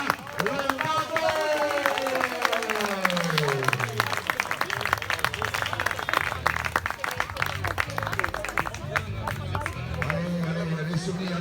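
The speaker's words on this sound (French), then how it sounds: "Merci d'applaudir monsieur Benjamin Lombardo." Crowd applauding a triathlon winner at the podium during the Valbonnais triathlon 2023 awards, steady clapping with loud crowd hubbub and an announcer's voice talking over it throughout.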